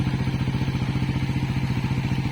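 A Suzuki Raider 150 FI motorcycle engine idles after a cam chain tensioner reset, a steady, close, rapid pulsing putter with light mechanical clatter and no talk.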